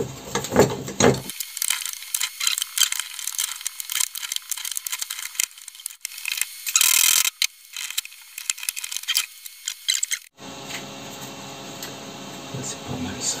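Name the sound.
ratchet tightening a clamp around an old motorcycle exhaust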